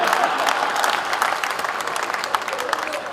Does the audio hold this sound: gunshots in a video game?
no